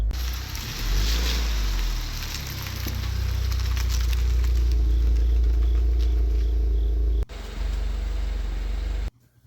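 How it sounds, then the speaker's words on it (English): A 2024 Subaru WRX engine idling while warming its oil, a steady low rumble that holds constant for several seconds before cutting off briefly near the end. "I'm going to let it idle a little bit to get the oil temperature up"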